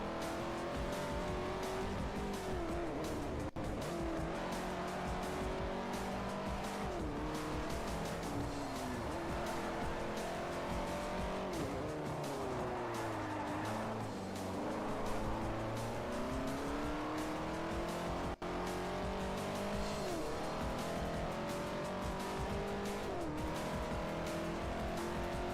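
Race car engine in Forza Motorsport 4 howls continuously at high revs, pitch rising and dipping through fast corners with tire squeal layered in, loud and steady throughout with no talking.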